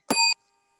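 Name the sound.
bell signalling speaking time has expired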